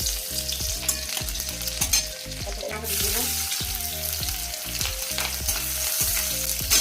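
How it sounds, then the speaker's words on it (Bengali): Chopped garlic hits hot oil in a home kitchen pan, a steady loud sizzle with bursts of frying hiss and a rhythmic pattern of stirring or scraping underneath throughout. "তেলটা গরম হবে, গরম হয়ে গেছে, দিয়ে দিলাম রসুন কাটা ছিল, রসুনটা দিয়ে দিলাম"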